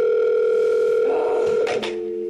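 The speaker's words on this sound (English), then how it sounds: "Don't you just hate that constant ringing at other radio stations when you're trying to request your favorite music?" A telephone line tone inside a radio station advert, a steady electronic tone holding throughout, briefly interrupted by a click-like burst near the end before continuing at lower level.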